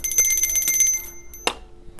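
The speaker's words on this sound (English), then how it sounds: "and we're going to ring that bell," A bell is rung once to mark finishing a cash-stuffing savings challenge, giving a bright ringing tone with a sharp second strike near the end, alone with no talk.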